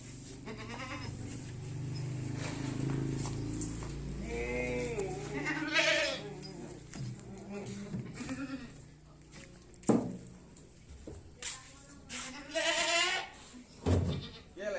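Javanese goats bleat repeatedly at close range, loud wavering cries in irregular bursts, with occasional voices and rustling in between.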